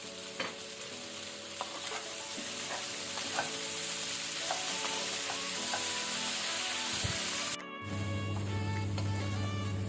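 Elephant foot yam pieces stir-fry in coconut oil with a steady sizzle and frequent scraping from continuous stirring. The sound drops out briefly, then returns as a louder, fuller frying hiss.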